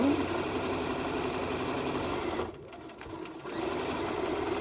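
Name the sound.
sewing machine stitching a cloth face mask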